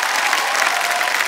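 On the Kaun Banega Crorepati set, the studio audience gives a brief, dense round of clapping to welcome actor Pankaj Tripathi, loud and uniform throughout.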